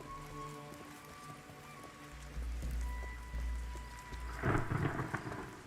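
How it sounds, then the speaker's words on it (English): Thunder rolls and cracks through steady rain in the fantasy MMO Pantheon: Rise of the Fallen, a deep rumble swelling midway and a sharper crack near the end over a constant patter of rainfall, with no talking. "Ooh, that was a good thunder crack."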